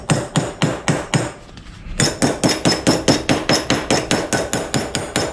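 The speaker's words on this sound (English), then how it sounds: "so you get your ball peen, work down the length of it." A ball peen hammer strikes sheet metal along a seam to bend it to 90 degrees for a four-barrel carburetor swap, about twenty loud, close, evenly spaced ringing blows with a short pause partway through.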